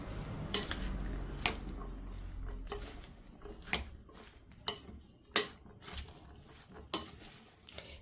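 Chopped sweet lime, watermelon and pomegranate are mixed in a bowl, heard as a series of distinct spoon knocks and clinks against the dish at irregular intervals over a quiet background.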